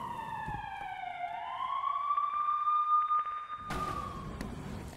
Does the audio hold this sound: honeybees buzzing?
no